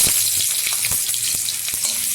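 Tomato pieces frying in oil spiced with a cumin tempering, a loud continuous sizzle and crackle with occasional stirring clicks, no voices.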